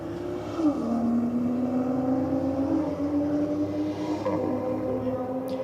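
A BMW and a Volkswagen race side by side at a race night, the engine note holding a strong, sustained drone that shifts pitch as the cars accelerate, close and loud.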